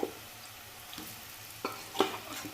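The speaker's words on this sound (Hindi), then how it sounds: "अब चलिए सीधा हम डायरेक्टली कद्दू को तेल के अंदर डाल देते हैं।" Pumpkin pieces hit hot oil in a pan, giving a soft, steady sizzle broken by a few faint crackles and pops, quiet and close with no talking.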